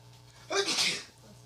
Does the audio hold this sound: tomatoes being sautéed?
no